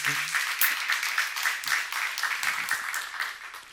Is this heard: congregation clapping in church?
yes